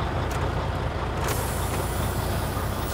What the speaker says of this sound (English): I release both my tractor and trailer parking brakes.